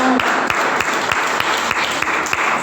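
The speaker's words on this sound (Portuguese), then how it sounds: "Assente e aplaude." A church congregation applauds during a Portuguese-language Easter service, broad clapping with a few sharp louder claps standing out at a steady pulse, continuous across the whole stretch.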